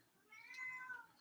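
A cat gives a single short, faint meow, rising then falling, in a quiet indoor room.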